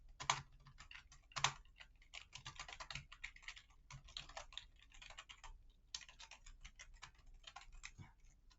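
Linux commands typed on a computer keyboard: quiet, rapid, uneven key clicks in bursts, with an occasional heavier keystroke, close and alone.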